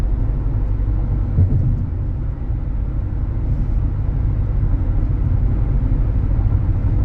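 A 2011 Hyundai Sonata sedan driving smoothly, with a steady, low engine and road rumble heard from inside the cabin at a constant, even level throughout.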